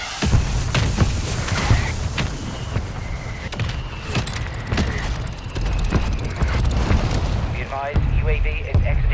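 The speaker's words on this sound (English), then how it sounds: "Copy. Mortar strike inbound." Mortar strike barrage in Warzone III, a loud run of booming impacts and sharp gunfire-like cracks rolling through the whole stretch, with radio voices talking over the blasts.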